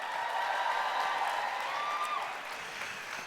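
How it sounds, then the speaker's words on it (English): An audience at a fashion show applauds in a dense, continuous patter that holds steady and then eases slightly near the end, with a faint sliding tone and some background crowd noise. "Give yourself a round of applause."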